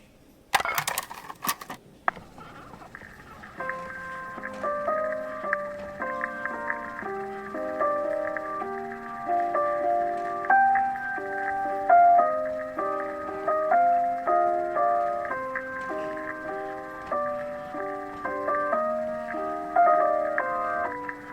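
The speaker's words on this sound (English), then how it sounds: "You can play the record if you want." A record plays on a phonograph in The Mr. Rabbit Magic Show puzzle game: a few sharp clicks, then a bright, tinkling melody of clear notes in a steady, music-box-like rhythm.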